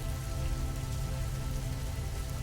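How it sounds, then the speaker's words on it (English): Steady drizzling rain on a mist-covered island shore, a soft, even patter with no break from start to finish and no voices. "The rain drizzled steadily"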